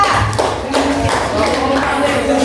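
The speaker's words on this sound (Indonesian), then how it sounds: "beri tepuk tangan kepada perwakilan kelompok 3" Classroom applause for a group 3 representative: several loud claps stand out against a dense, continuous wash of room noise and voices.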